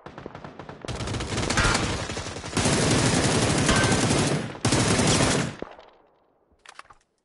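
Video game gunfire: long bursts of rapid automatic fire come in close, loud waves of a few seconds each, then stop abruptly, followed by a couple of faint distant shots near the end.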